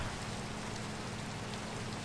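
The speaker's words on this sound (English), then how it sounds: "I just don't like to sleep in the rain." Rain falls steadily in the Minecraft video game as a dense, even hiss of pattering drops that stays constant and fills the whole stretch, with no voices over it.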